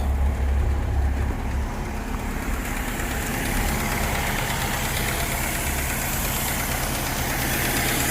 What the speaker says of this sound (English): Our AC compressor is definitely on now